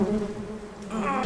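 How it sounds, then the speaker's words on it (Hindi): A housefly buzzes close by indoors, a steady droning hum that swells slightly toward the end, with no voices over it. "इधर ये मक्खी तंग कर रही है"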